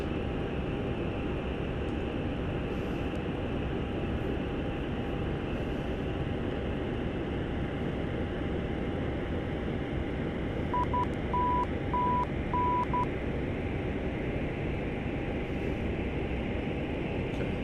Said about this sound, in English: This is the Morse code we want here.